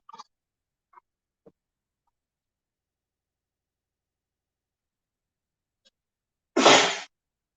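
A single sharp, loud sneeze from a person, bursting out after a few faint clicks and taps in an otherwise quiet room.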